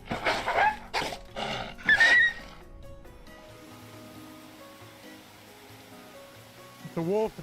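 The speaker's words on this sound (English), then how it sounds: "It's a wolf, it's not a dog." In the game Medieval Dynasty, a wolf gives a few sharp, rising howl-like yelps early on, then a lower growling snarl near the end, over a faint steady background hum.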